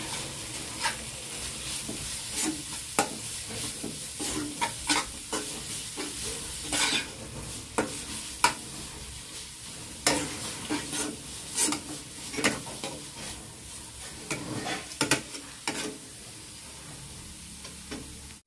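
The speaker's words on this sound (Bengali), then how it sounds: "এটাকে এখন ভালো করে আবার কষিয়ে নেব" A spice mixture with salt and sugar is stir-fried in a pan, with repeated scraping strokes of a spatula over a low, steady sizzle.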